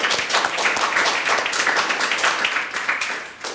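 Warm studio audience applause on an Italian sports television show, a dense, even wash of clapping from a gathered crowd sustained for several seconds and tapering slightly at the close.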